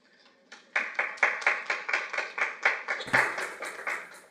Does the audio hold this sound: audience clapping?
yes